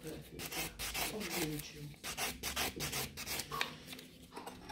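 A nail buffer smooths the surface of a gel nail in a salon rebalance, producing short, close rubbing strokes in an irregular rhythm, with soft voice traces underneath.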